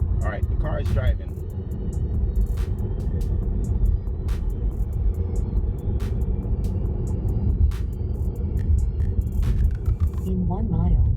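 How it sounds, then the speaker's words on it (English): Tesla Model 3 cruising on a highway, with a steady low road and tire rumble and occasional thumps under close conversation inside the cabin. "Alright, the car is driving."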